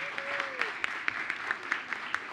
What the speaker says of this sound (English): Can we hear another round of applause for our student performers, everybody?